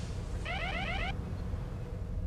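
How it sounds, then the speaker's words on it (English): A warbling electronic alarm aboard a starship in a Star Trek audio drama, a brief rapid trilling burst over a low steady engine hum, fairly faint and alone. "No, what's that alarm now?"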